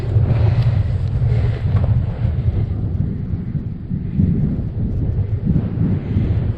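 Strong wind of about 25 mph sweeps across open Dartmoor moorland, roaring and buffeting the microphone in a loud, continuous low rumble that surges and eases, with no talking.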